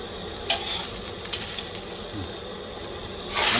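Beaten eggs for a Thai omelette frying in a pan over high heat, a continuous close sizzle with brief stirring scrapes and a louder burst of hiss at the end.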